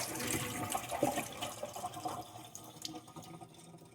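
Water splashing and gurgling as it pours out of a jar of soaked sunflower microgreen seeds, loudest at first and then trailing off into faint drips.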